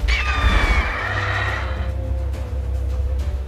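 A horse in the video game The Witcher 3 lets out one loud, shrill whinny that trails off, over a low steady rumble in the background.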